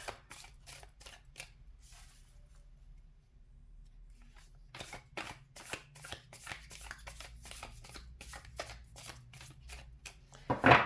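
Tarot cards shuffled by hand in quiet, crisp riffling bursts, with a pause partway and then a rapid run of soft card slaps, close and faint.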